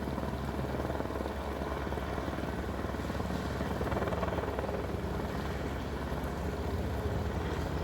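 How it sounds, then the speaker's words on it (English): A helicopter hovers overhead with a steady, broad rotor roar and thrumming that holds constant throughout, fairly loud with no voices. "A helicopter hovering in place."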